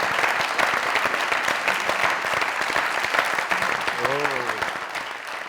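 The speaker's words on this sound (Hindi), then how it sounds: "ताली मारनी चाहिए" A studio audience at a comedy talk show claps in a sustained, dense burst while a voice speaks briefly over the applause near the end.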